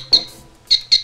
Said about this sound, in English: So when it crashes, it chirps like a bird.